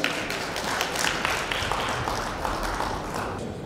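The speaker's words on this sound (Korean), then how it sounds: "힘찬 박수로 맞이해 주시기 바랍니다" Audience at a Korean special lecture event applauds to welcome the lecturer, a steady dense patter of clapping filling the hall throughout without pause.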